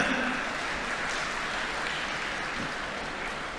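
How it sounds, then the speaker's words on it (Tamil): Audience clapping at a Tamil devotional conference in Palani, a fairly faint, steady patter of hands from a sizable crowd, continuous with no voices over it. "நாலஞ்சு பேர் தான் கைத்தட்டி நல்லா தட்டலாமே"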